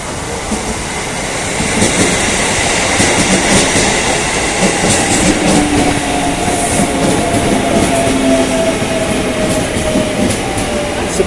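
A Japanese-made commuter train rolls past nearby at Jakarta Kota station with a loud steady roar, rhythmic wheel clatter and faint squealing tones rising over the rumble.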